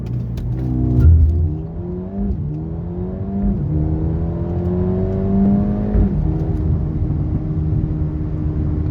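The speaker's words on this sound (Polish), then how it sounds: "To szybciutko przyspieszenie do pierwszej setki" Mercedes-AMG A35, a 2019 car tuned to 350 hp with a tuning box, accelerates hard from a standstill toward 100 km/h. Its engine climbs loudly through repeated rising pitch sweeps, with brief dips at each gear change.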